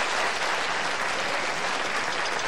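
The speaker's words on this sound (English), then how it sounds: "Applaud if you've never been to one of these films." A TV studio audience breaks into dense, continuous applause, many hands clapping at once at an even level throughout, with no voices standing out.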